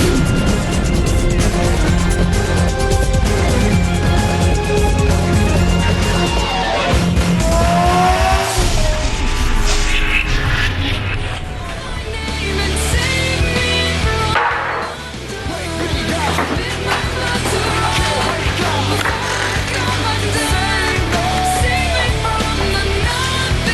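A drift car at the Motordrome during a 2013 drift series event, with loud sustained engine roar, revving and tire squeal through the skids, close and continuous.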